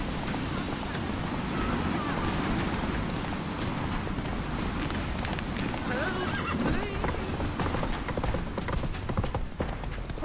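Roach, Geralt's horse in The Witcher 3, gallops with steady, close clip-clop hoofbeats and gives a whinny midway, while voices speak over the action.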